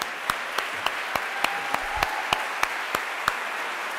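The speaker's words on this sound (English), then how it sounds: "I'm going to go ahead and give you a round of applause" At a divinity school orientation sermon, an audience applauds incoming students, a steady hiss of clapping under regular, evenly spaced sharp claps, as if one person or a rhythmic beat cuts through.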